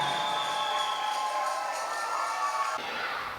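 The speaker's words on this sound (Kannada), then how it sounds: "ಚಪ್ಪಾಳೆ ತಟ್ಟಿ ದೇವರಿಗೆ." A church congregation breaks into continuous broadband clapping and cheering, a steady wash of hands and raised voices that holds for a few seconds and then thins slightly toward the end.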